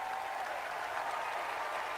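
Steady audience applause at a Democratic National Convention night, a continuous wash of many hands clapping at moderate volume with no break.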